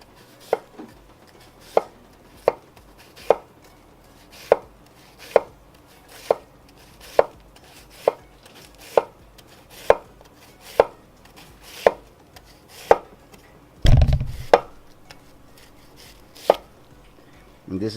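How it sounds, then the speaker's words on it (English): A knife slices cabbage very thin on a cutting board in steady, evenly spaced chops, close and crisp, with one brief louder clatter partway through. "Okay, our cabbage, I'm gonna just cut it really thin."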